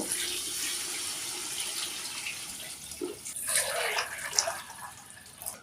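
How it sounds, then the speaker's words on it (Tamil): Water poured into a cooking pot for chicken dum biryani with seeraga samba rice, a steady splashing pour that grows livelier and more bubbly toward the end. "ஒரு அரை அரை கிண்ணம் தண்ணி சேர்த்துக்கிறேன்"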